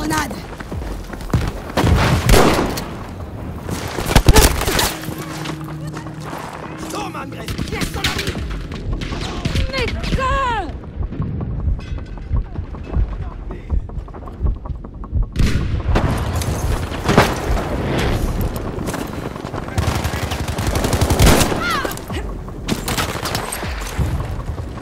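A grenade explosion and gunfire in the Battlefield 5 video game, with heavy booms and scattered rattling shots coming in bursts over ongoing battle noise, while in-game voices talk throughout.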